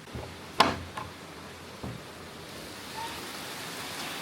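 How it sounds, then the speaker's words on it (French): Heavy tropical rain pours down in Bali as a steady broadband wash, with a few sharp drips or knocks near the start, no speech. "C'est le déluge."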